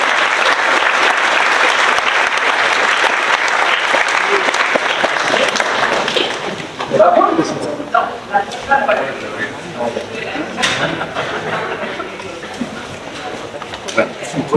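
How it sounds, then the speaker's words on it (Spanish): Applause from the audience at a Mexican book presentation welcoming an author, loud dense clapping for about six seconds that then thins into scattered claps beneath someone speaking. "Démosle un fuerte aplauso, por favor,"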